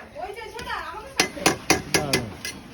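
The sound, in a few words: stirring and frying spice masala in a pan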